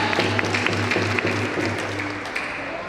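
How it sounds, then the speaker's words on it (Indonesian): An audience claps at a family clan gathering, a short burst of applause that thins out toward the end, with some background hum beneath it. "kita berikan tepuk tangan buat abang kita"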